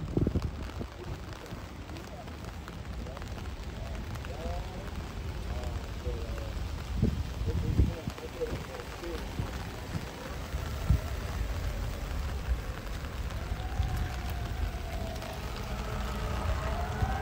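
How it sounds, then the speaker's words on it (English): Steady rain falls outside a prison in Washington DC, a continuous broadband patter with wind noise on the microphone and occasional faint voices in the background throughout. "It's raining."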